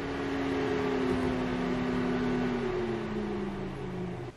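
A Volkswagen engine cooling fan runs steadily during an electronic output test, a close, continuous whir with a slowly falling tonal hum throughout, no voices.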